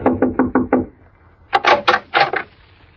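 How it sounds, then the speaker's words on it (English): Knuckles rap on the wooden door of a motel cabin in two bursts: five quick, evenly spaced knocks, a pause, then four heavier, louder knocks, close and crisp in a quiet room. "I pulled up at the Shady Glade and knocked at the door of cabin number 4"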